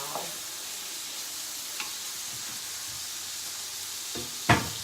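Ground beef sizzling in a pan on a stovetop, a steady soft frying hiss throughout with a few faint ticks and one sharper clink near the end.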